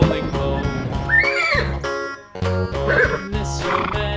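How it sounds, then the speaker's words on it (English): A farm horse whinnies twice in rising, wavering calls, heard over a cheerful children's nursery-rhyme song with steady music throughout. "Horse."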